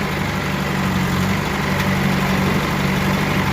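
A JCB backhoe loader in poor, worn condition, used for road work, idles with a steady low engine rumble that runs unbroken and close throughout.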